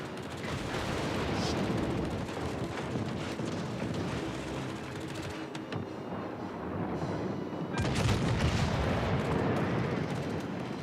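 Armor-piercing shell salvos fire at a ship's bow in the naval game World of Warships: Legends, with heavy booming blasts and rolling rumble throughout and a fresh loud burst near the end.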